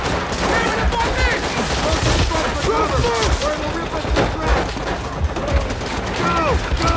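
Dense, sustained gunfire in the trench battle of the video game Call of Duty: World at War, with machine gun bursts layered over rifle shots and booms, loud and continuous throughout.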